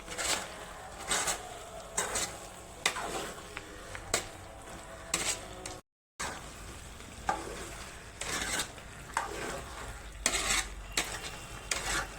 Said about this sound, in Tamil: நல்லா கிளறி இருக்கலாம்